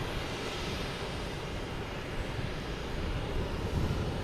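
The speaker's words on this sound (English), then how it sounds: "Got a JetBlue coming in from Philadelphia." JetBlue airliner arriving at Logan Airport from Philadelphia, heard as a steady broadband engine roar that holds level throughout without any talk.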